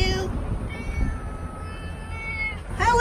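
A cat meows in a long, drawn-out cry close by, with a shorter call at the end, heard indoors with little else around it.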